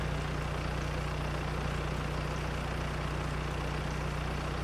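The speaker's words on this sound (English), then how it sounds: "The tractor wants to keep surging." A tractor engine in the farming game Farming Simulator 22 drones at a steady idle, its low hum continuous and unbroken, with no talk over it.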